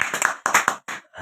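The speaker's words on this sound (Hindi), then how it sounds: "एक बार भाई साहब के लिए ताली बजा दीजिए साहब" A few pairs of hands clapping for a man at an RCM business meeting, short uneven bursts close by with brief gaps between them.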